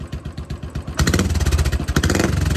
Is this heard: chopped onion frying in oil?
no